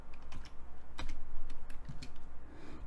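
Computer keyboard keys are pressed while entering notes in MuseScore notation software, giving a run of crisp, close clicks in an irregular rhythm with short pauses and no talk.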